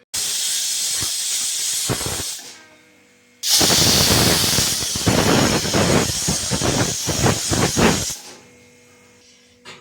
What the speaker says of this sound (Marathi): कुकरचं झाकण लावून 2 शिट्ट्या काढून घेऊ आपण.